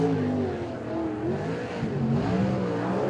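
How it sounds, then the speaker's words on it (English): A sprint car engine at time trials during the War of the Wings round, revving hard and snarling with rising and falling pitch as the car circles, steady and moderately close with no voices over it. "One of the angriest sounding sprint car engines you're going to hear around."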